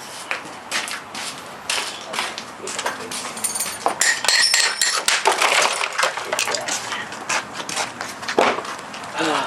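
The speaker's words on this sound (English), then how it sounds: "Nothing escapes the big hammer." Loud, close metallic clanks and sharp blows as a big hammer smashes industrial light fixtures for scrap, with jangling and tinkling of breaking metal and glass in quick, irregular bursts.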